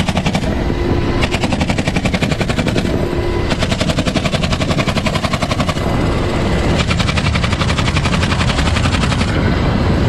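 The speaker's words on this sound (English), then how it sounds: "officers fired just the correct number of shots to keep the swimmers safe" Rapid, continuous bursts of police gunfire aimed at a shark near a beach shoreline, loud and sustained with a droning helicopter-like rumble underneath and no speech.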